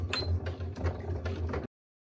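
Sewing machine stitching lining fabric aligned with a cut outer piece, starting and ending with a backstitch; a close mechanical whirring with short rhythmic bursts for about a second and a half, then stopping abruptly.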